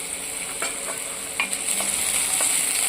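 Spring onion sizzles steadily in hot oil, a continuous bright hiss dotted with small pops and crackles, close up and without voices.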